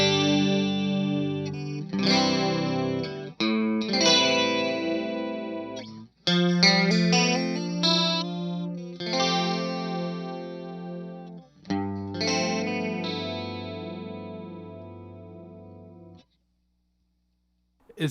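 Electric guitar through a TC Electronic SCF Gold chorus pedal, a lush shimmering tone over a series of strummed chords and picked phrases, loud and alone, fading into a pause near the end.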